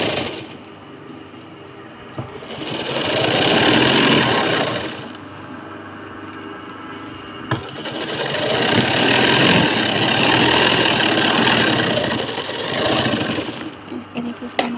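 A sewing machine stitches a large handbag in bursts, its motor whirring up for several seconds, pausing and then running again, fairly close and moderately loud.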